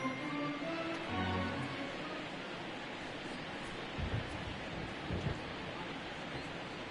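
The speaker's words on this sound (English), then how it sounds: "Really starting to pour now, and the forecast is not showing any signs of a break in the weather" Heavy rain pours steadily across a baseball field, a dense, even roar of falling water with a few brief low thumps, heard alone without voices.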